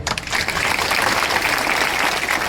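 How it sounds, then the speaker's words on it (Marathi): Steady, continuous clapping from a large crowd at a municipal election campaign rally, loud and sustained throughout with no pauses. "आता हे टाळ्या वाजवून सांगा बरं"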